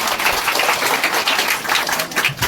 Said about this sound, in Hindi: जोरदार ताली दे दीजिए प्लीज।